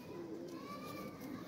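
Kasuri pigeons coo softly in a low, murmuring rhythm, faint and somewhat distant against a quiet background hum, with no speech.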